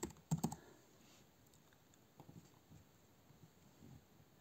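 Faint, close taps on a computer keyboard. A quick burst of keystrokes comes at the start, then a few scattered clicks follow in a quiet room.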